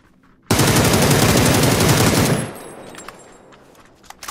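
Rapid automatic gunfire in a shooter video game, one loud continuous burst of tightly spaced shots lasting about two seconds, then a decaying tail with a few scattered clicks and pops.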